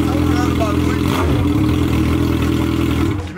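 A Yamaha XJ6 motorcycle engine runs loud and close, holding a steady throbbing drone with one quick rev partway through before it eases off at the end.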